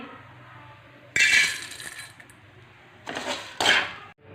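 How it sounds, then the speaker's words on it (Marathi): Roasted crisp poha is scraped and tipped from a metal pan into a dish, giving two bursts of rattling, clinking utensil sounds against a quiet background, with no talking. "कुरकुरीत खमंग पोहे भाजून घेतलेले आहेत आता आपण काढून घेऊ एका डिशमध्ये"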